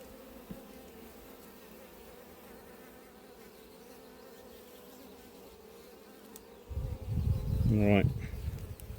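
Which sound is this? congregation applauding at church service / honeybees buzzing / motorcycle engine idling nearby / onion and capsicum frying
honeybees buzzing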